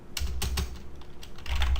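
Rapid clacking keystrokes on a computer keyboard while JavaScript code is typed, a brisk burst of close, crisp taps over a faint steady hum.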